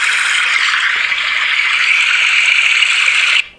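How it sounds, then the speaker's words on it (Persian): Steady rushing river water from a phone's built-in background sound, a continuous even flow that runs loud and unbroken before cutting off abruptly near the end. "صدای رودخونه."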